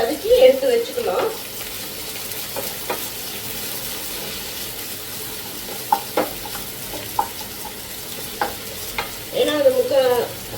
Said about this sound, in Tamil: அதுக்குள்ளே இந்த வெங்காயத்தை வந்து நல்லா வதக்கிக்கலாம்.